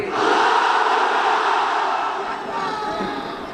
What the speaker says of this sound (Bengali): অবিয়াদারিরা পড়বে আল্লাহু আকবার